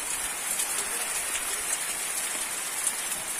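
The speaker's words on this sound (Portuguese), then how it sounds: "Chuva, chuva, coisa boa, maravilhosa." Steady rain pours down in the sertão, a dense continuous hiss of drops hitting surfaces with no voices over it.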